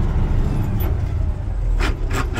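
A heavy truck engine idles low and steady through a gear change, its rumble briefly lifting in a small rev bump, with a few faint clicks near the end.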